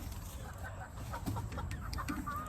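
Purebred backyard chickens cluck softly and intermittently close by, their short calls scattered over a steady low background hum.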